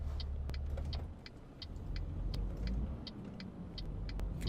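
DAF XF 105 truck with a 510 engine and six-speed manual gearbox in Euro Truck Simulator 2, a low steady engine rumble as it pulls along, with repeated high ticking clicks over it.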